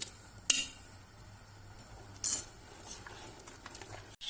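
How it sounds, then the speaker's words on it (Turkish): Two light metallic clinks, a lid being set down on a pot of soup, the second a little louder, followed by quiet kitchen ambience and faint ticks. "Tenceremin kapağını kapattım."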